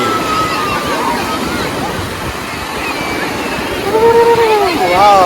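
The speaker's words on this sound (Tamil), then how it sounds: "கடல் அலை." Sea waves wash and slosh onto the shore at Juhu Beach in Mumbai, a steady rushing surf close by, with people talking over it and a brief higher voice near the end.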